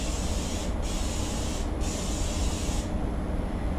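Pam cooking spray hisses onto a baking dish in three short bursts separated by brief pauses, close and fairly faint, with no talking.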